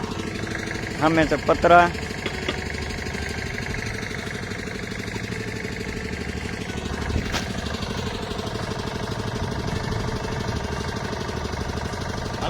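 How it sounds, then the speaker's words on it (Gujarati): A generator running steadily outdoors in hilly countryside, a continuous mid-pitched engine hum throughout, with a person talking over it and a few clattering knocks near the start. "અને સામે અમે મૂકી દીધું છે જનરેટર"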